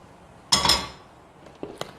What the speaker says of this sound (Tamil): அதுக்காக இன்னொரு பேன் வச்சுக்கிறேங்க.